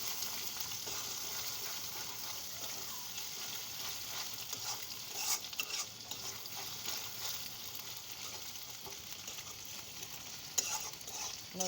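Egg frying with onions in a pan, steady sizzling hiss throughout while a spatula lightly breaks and stirs it, with occasional scraping clicks and no voices.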